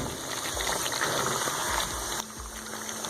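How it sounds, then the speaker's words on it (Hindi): Chicken frying in a karahi for a creamy white chicken karahi, giving a steady close wash of bubbling, hissing oil and moisture with a slight drop in level partway through. "इसको मज़ीद हम 5 मिनट के लिए फ्राई करेंगे ताकि इसका कच्चापन ख़त्म हो जाए।"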